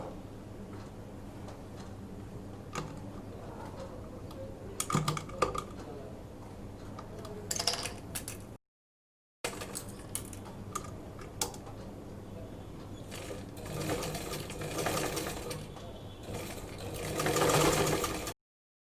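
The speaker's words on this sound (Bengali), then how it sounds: "এটাকে জাস্ট কলারের মাপ অনুযায়ী জাস্ট সাইড থেকে নিয়ে এই পর্যন্ত সেলাই করে নিব" A sewing machine stitches a half collar on fabric, whirring in steady runs with a short break partway through and a louder, faster burst near the end.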